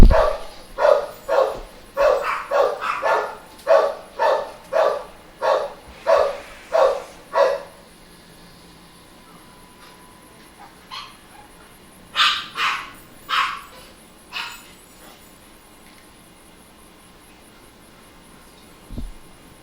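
A dog out on a walk barks repeatedly nearby, about a dozen evenly spaced sharp barks, then a pause and a second shorter burst of four or five barks.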